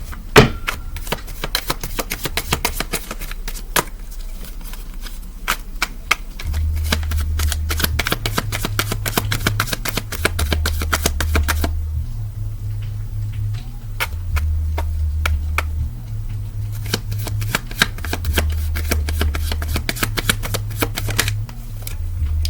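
A deck of tarot cards is shuffled over and over, with rapid riffling and flicking close up and loud, while a low rhythmic hum runs underneath.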